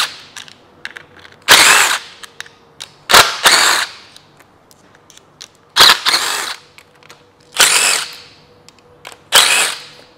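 A power tool on a Kia/Hyundai V6 spins out 10 mm valve cover bolts in five loud, close bursts of about a second each, separated by quiet pauses with small metallic clicks.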